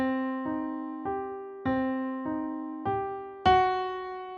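A short melody built on a flat fifth, played as seven clear notes with even spacing, each note struck and left to ring and fade, the last one louder and higher.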